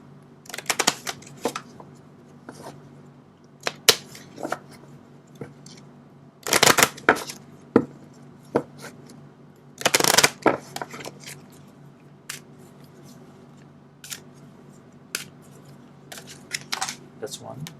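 Tarot cards being shuffled by hand in a quiet room, giving repeated soft riffling and flicking bursts with a few louder clustered shuffles, under occasional talk.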